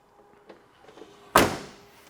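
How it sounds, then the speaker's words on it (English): A 1967 Chevrolet Camaro door with a red vinyl panel shuts once in a single solid, tight thunk, close by, after a few faint handling clicks. "Door closes well, nice and tight."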